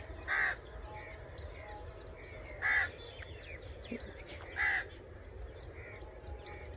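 A crow caws three times near wheat fields, evenly spaced a couple of seconds apart, over outdoor background noise.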